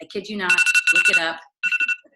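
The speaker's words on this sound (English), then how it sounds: "Hashtag real life, that's my alarm." A phone alarm ringtone chimes in rapid repeated tonal pulses, fairly loud and close, overlapping a person talking, then stopping briefly before a final short burst of beeps.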